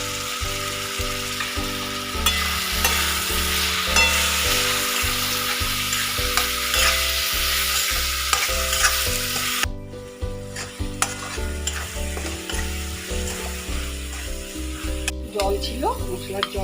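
Vegetables with Kashmiri chili, cumin and coriander powder and a little sugar sauté in a pan, a loud, continuous sizzle with rhythmic stirring scrapes, easing somewhat partway through, and no speech.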